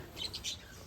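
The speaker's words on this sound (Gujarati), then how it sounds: "એકાબીજા લડાઈ કરે છે જો પોપટ લડાઈ કરે લડાઈ" Several parrots squabbling and calling inside a cage: a few short, high chirps in quick succession, fairly faint over a soft background.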